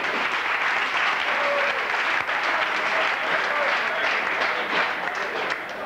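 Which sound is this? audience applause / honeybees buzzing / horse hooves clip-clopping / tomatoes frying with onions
audience applause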